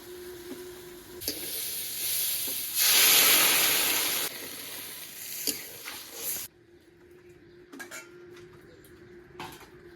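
Water poured into a pan of fried yardlong beans, beans and potatoes sets off a loud hissing burst of steam. Pot and utensil clatter comes before and after, and a faint sizzle is left once the hiss stops.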